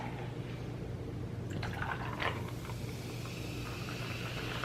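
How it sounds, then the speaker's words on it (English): A freshly opened Sprite Zero soda fizzes steadily, with soft crackling carbonation and small drips or pouring sounds over a constant low background hum at a close distance. "Listen to that fizz."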